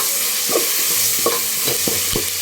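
Onions and tomatoes sauté in a pan for coconut milk rice, with a steady sizzle under several short scraping stirs of a spoon.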